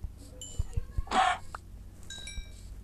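Chicken clucks from the Minecraft video game, a few short clucking bursts scattered among small game noises and thumps, fairly faint, with one brighter louder squawk near the middle.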